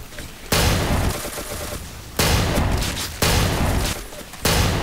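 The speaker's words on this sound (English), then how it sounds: "I'm actually doing it with the shotgun." Shotgun blasts in the video game Ace of Spades, four loud booming shots spaced about a second apart, each with a long decaying tail.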